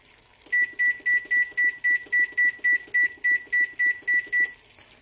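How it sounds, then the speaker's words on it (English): A kitchen timer set while grilling lemon chicken breasts beeps about fourteen times in an even, rapid series of short, bright tones, clear and close, then stops. "Let me set my timer."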